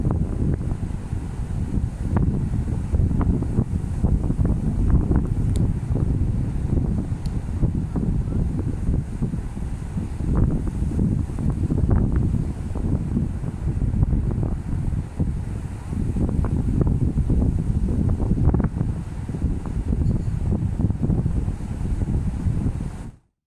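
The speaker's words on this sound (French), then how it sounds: "Il y a énormément de vent, on est dégoûté." Strong wind gusting across the microphone outdoors: a dense, rumbling low roar that swells and dips in buffets for over twenty seconds, loud and continuous, with no speech.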